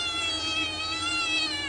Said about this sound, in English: He's a very vocal kitten too.